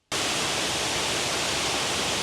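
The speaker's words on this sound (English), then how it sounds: "Now I'm looking at the Reedy River Falls from above on the Liberty Bridge." Reedy River Falls waterfall in Greenville, South Carolina, heard from the Liberty Bridge above: a dense, steady rush of falling water that starts abruptly and roars evenly without pause.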